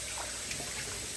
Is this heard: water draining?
yes